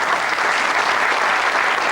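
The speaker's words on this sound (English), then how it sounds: "Round of applause for Stats." Loud, dense, continuous applause from a television studio audience on a fantasy football comedy show, sustained evenly throughout.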